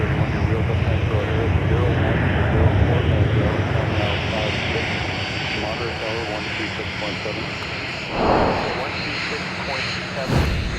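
Airliner jet taxiing at MSP airport, a loud continuous engine roar and hum close by, with radio chatter from air traffic control talking over it.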